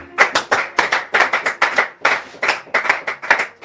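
Church congregation clapping for God in rhythmic bursts, a steady run of close, sharp handclaps with short gaps between phrases, loud and without speech.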